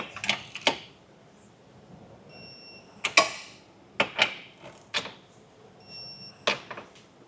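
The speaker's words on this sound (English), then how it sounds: "Now we'll take our torque wrench and torque everything down to the specification in the instructions." A torque wrench tightens the bolts of a Curt Class I trailer hitch on a 2017 Mini Clubman, giving a series of sharp, close mechanical clicks and clacks in scattered bursts with quiet gaps between them.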